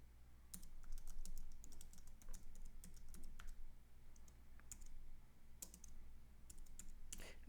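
Code is typed on a computer keyboard: irregular bursts of crisp key clicks and clacks, some rapid runs and some single taps, close and clear over a low steady hum.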